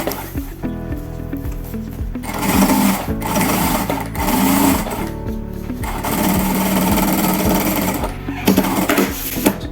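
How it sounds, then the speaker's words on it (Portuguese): A sewing machine stitches a seam on lining fabric for an insulated lunch bag, a loud, fast mechanical chatter that surges and pauses in bursts, with the rhythmic needle clatter close up. "Passamos uma costurinha."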